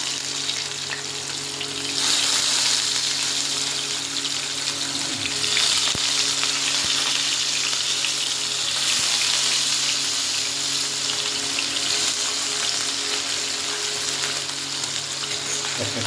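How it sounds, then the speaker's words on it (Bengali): Fish rubbed with salt and turmeric sizzle steadily in hot oil, a loud, continuous close frying hiss that swells slightly after a couple of seconds and holds throughout. "একটা একটা করে মাছগুলোকে ভাজতে হবে।"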